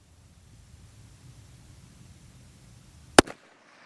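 A single sharp, loud report from a Volquartsen Scorpion .22 WMR pistol cracks out near the end, followed by a brief echo, after quiet low outdoor background noise.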